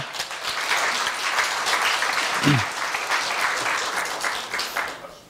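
An audience at a Korea University staff retirement ceremony breaks into dense, steady applause that holds for several seconds, briefly crossed by a short voice near the middle, then tapers off at the end.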